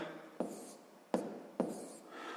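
Pen strokes writing numbers by hand on paper, three short scratchy bursts in quick succession, close and quiet with no talking.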